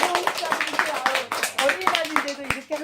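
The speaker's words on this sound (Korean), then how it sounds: "오늘 박수 소리가 커서 좋습니다" An audience at a current-affairs briefing claps steadily with dense, close, overlapping handclaps that rise and fall in strength throughout.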